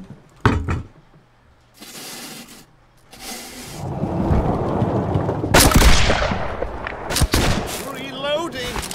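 Ship cannons firing in the naval video game Blackwake: a few loud, sharp booming blasts spaced apart, ringing out over a rumbling battle din while voices talk throughout.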